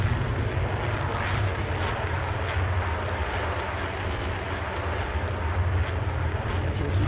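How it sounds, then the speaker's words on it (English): Jet engines of an F-22 Raptor in a Roblox air show, a steady loud roar that does not let up, with faint talk underneath. "F-22 pulling up into the vertical once again, showing those incredible engines and just how powerful they are."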